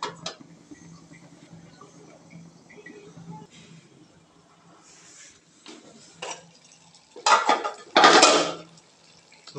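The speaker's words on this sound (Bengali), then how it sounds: "এখন কিছুক্ষণ কষিয়ে নিতে হবে, কষাতে হবে।" A pot and spoon clatter while eggplant and dried fish sauté: faint scraping and clinks through most of the clip, then a few louder bursts of metal clatter near the end.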